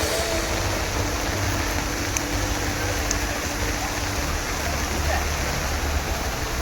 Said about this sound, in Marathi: इकडे मोठा मुसळधार पाऊस चालू आहे